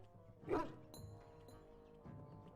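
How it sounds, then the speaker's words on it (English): A single close yip or bark from a dog in the video game Dragon Age: Origins, followed by quieter game ambience and faint chimes. "Wait, did you hear that? Oh, Nim the dog"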